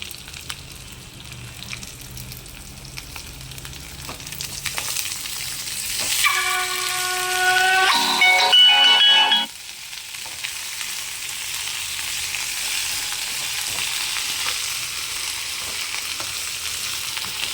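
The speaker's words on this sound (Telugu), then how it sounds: "చక్కగా తోటకూర వేసుకొని చక్కగా వేయించుకొని మగ్గుతుందండి" Amaranth leaves frying on a low flame, a continuous soft sizzle and crackle throughout, with a brief stretch of louder hissing and ringing tones partway through before it settles back to a gentle fry.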